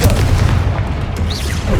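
The Confringo fire spell goes off in Hogwarts Legacy during a troll fight, a loud, low rumbling blast that fills the short moment and is followed by a brief whooshing sweep near the end.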